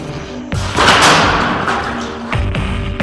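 Heavy thuds from a debris impact cannon striking a test wall at a steady interval: a sharp impact, a broad roaring burst, then two more loud hits near the end, close and forceful.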